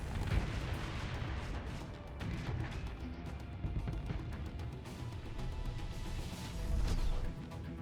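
Ship weapons fire during Starsector space combat, a continuous rumbling barrage of booms and thuds with heavy low-end weight that swells in intensity toward the end.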